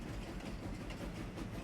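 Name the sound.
train rolling across the map in Farming Simulator 25 video game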